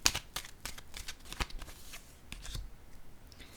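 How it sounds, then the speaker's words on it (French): Tarot cards being handled and flipped over, giving a quick run of crisp papery snaps and soft slides close by, with short pauses between the flicks and no talk. "Je vais juste retourner ces deux cartes pour avoir des détails sur elle."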